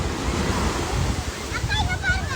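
Sea waves wash steadily onto the shore, a continuous broadband rush with wind noise on the microphone, heard close and fairly loud with no clear talk over it.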